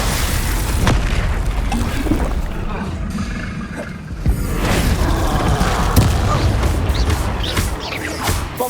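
Bombarda spell explosions in the video game Hogwarts Legacy: a steady roar of booms and crashing blasts with a sharp impact near the middle, loud and dense, with character voices shouting spells.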